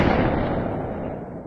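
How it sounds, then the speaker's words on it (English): A gunshot sound effect from a true crime documentary: a single heavy blast that opens loud and fades away over about a second and a half, with no voices. "Then, a gunshot."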